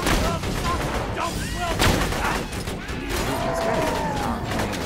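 Rapid gunfire in the video game Borderlands 2, dense overlapping shots and impacts blending into a constant, loud battle din with faint game sounds beneath.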